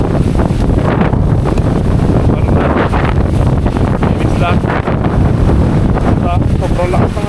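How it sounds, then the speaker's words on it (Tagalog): Strong wind buffeting the microphone while car camping in a Suzuki minivan at a seaside spot along the West Philippine Sea, a loud, continuous roar with faint voices partly buried underneath. "Sobrang lakas ng hangin."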